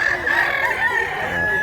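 A rooster crows once in a long, strained call, loud and close, amid a busy gathering of many people and fowl.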